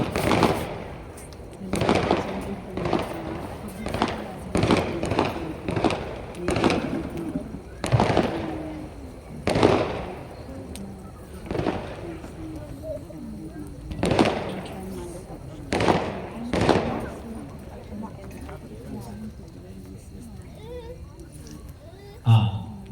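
Firecrackers set off during a Vedic fire ritual, a long irregular series of sharp bangs, some close and loud, others fainter, while people talk throughout.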